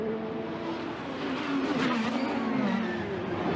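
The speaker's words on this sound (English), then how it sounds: "can hear the tires squealing right outside our booth as he comes sliding through the concrete at turn 3" Tires of an IndyCar race car squeal as it slides through turn 3 beside the concrete wall in qualifying at the Arlington Grand Prix, a sustained tonal screech over engine roar, loud and close for several seconds with no talk.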